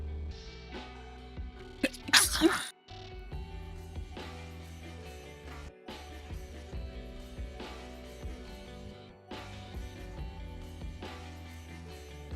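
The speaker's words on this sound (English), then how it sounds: "I gotta sneeze." A single sneeze bursts out over quiet background music, brief and close, then the music carries on.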